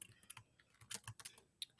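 Typing on a computer keyboard, a quick irregular run of light close key clicks with brief pauses, fairly quiet, with no voices.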